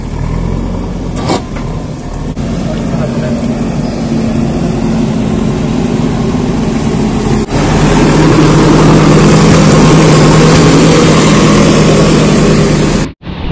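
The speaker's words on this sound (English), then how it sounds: "We have been waiting JCB to clear this road from that 10 a.m. till now." A JCB excavator engine runs at a landslide site on Willong Khullen road, a loud, close, continuous heavy rumble that holds steady and swells slightly louder partway through, with no talking.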